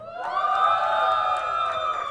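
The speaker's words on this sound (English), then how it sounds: "I want you guys to give a big round of applause for Nazmo" A crowd at a beatbox showcase cheers and whoops in a sustained, fairly loud roar of many voices lasting a couple of seconds.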